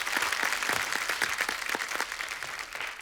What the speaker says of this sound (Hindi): एक बार मास्टर जी के लिए जोरदार ताली।